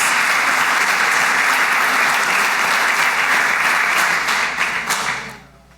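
A church congregation breaks into loud, sustained applause, a dense roar of clapping that holds steady for several seconds before dropping away sharply at the end.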